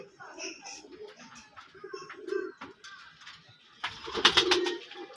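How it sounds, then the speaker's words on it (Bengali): A pair of Raj Golla pigeons coo nearby in soft, repeated calls, with other bird chirps and some faint voices in the background. "একজোড়া মিলি কালার কবুতর"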